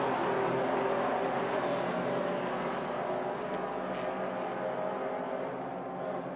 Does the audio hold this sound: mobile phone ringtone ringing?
no